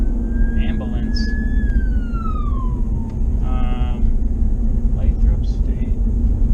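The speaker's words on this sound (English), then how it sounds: "ambulance." An ambulance siren passes along a rural road near Lathrop State Recreation Area. Gliding wails rise and fall over a steady low road rumble and grow fainter as it moves away.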